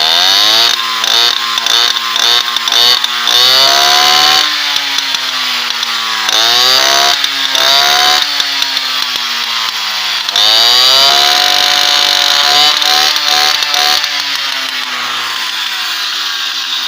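A moped fitted with a Dellorto carburettor revs hard and loudly, its buzzing two-stroke engine rising and falling in repeated bursts of throttle with no talking.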